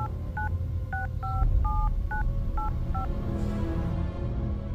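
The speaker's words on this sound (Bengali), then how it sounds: "তারপর আমি নিজেই ডায়াল করি সেই নাম্বারে" A telephone number is dialed by keypad, a run of about eight short, evenly spaced DTMF tones over a low background hum, with no talk.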